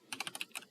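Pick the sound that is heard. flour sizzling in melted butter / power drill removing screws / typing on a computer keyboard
typing on a computer keyboard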